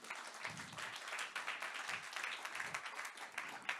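Audience applause welcoming a speaker onto a stage, a dense, continuous wash of many hands clapping, heard at a distance and quite faint throughout.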